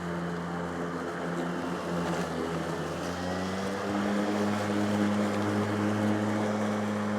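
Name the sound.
Ryobi 40V cordless lawn mower revving through tall grass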